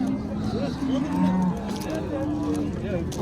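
Cattle at a livestock market in Manas low out in several drawn-out, wavering moos that overlap against a crowded background murmur.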